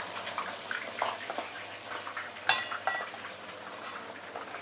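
Fish for ikan tiga rasa eased with a long spatula into smoking hot oil, giving a close, crackling sizzle with light metallic clinks and one sharp splash-like burst midway.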